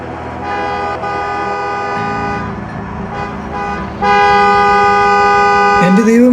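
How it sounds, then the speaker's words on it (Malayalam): A car horn sounds repeatedly from an empty car, loud sustained honks that hold steady and grow louder partway through before cutting off near the end. "എങ്ങനെയാണ് ഈ ഒരു വണ്ടിയിൽ നിന്ന് ഇങ്ങനെ ഹോണടി കേൾക്കുന്നത്?"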